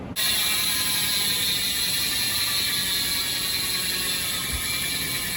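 Revol Rapide CLX Team Edition bicycle wheel freehub spins freely with a loud, continuous, rapid ratchet buzz that holds steady close by, with no voices.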